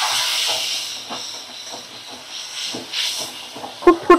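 Lukewarm water poured into a hot pan of jackfruit curry raises a loud, steady steaming hiss that carries on throughout, with a couple of sharp clinks of utensil on pan right at the end.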